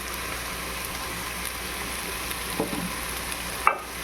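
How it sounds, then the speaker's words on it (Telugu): Ghee sizzles in a pan while Rayalaseema-style chicken biryani fries, a steady close hiss and crackle with a brief clink near the end. "నెయ్యి వేసుకొని కాసేపు వేగనిద్దాం"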